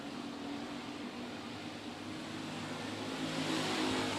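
Race cars run wheel to wheel on a dirt speedway track, their engines a steady, dense roar that swells slightly louder near the end, with no talking.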